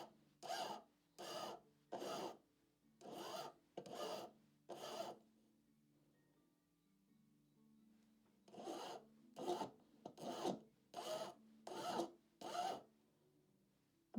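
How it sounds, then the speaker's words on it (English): Small pieces for a fabric soft toy are filed down to size, heard as two bursts of rhythmic rasping strokes, about seven each, close and crisp, separated by a short quiet pause. "Just filing these down to the right size."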